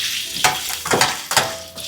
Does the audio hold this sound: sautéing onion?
yes